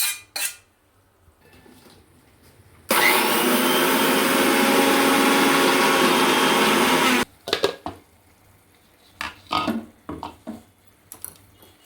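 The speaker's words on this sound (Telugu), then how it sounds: "ఇప్పుడు వేయించుకున్న నువ్వులు" A mixer grinder whirs loudly and steadily for about four seconds as it grinds roasted sesame seeds into powder for a bottle gourd curry with milk, framed by clattering kitchen handling noises before and after.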